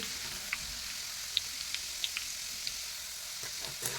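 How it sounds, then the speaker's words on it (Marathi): Grated raw potato fries in hot oil, a steady hiss with small crackles and light taps as a slotted spoon turns the shreds. "हा बटाट्याचा किस तळून घ्यायचा आहे थोडासा असा झाऱ्याने हलवून घ्यायचा आहे"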